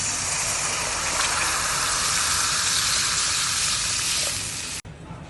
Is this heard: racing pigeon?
no